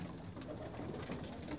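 Large pigeons, about three times the size of regular ones, cooing softly and low in a quiet setting.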